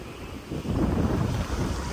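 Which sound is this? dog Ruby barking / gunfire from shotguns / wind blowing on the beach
wind blowing on the beach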